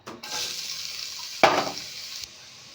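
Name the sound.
chopped onions frying in oil with bay leaf and cumin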